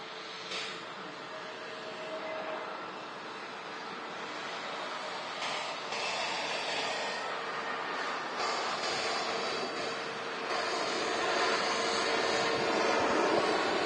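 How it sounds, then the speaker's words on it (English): An EasyJet Airbus A320neo airliner arriving from Palma lands at Manchester Airport, its steady engine roar loud and continuous, building gradually over about fourteen seconds with no voices. "EasyJet, next to landing from Palma. A320 Neo."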